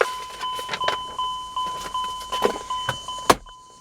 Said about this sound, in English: as you can hear by the dinging, we get the keys and everything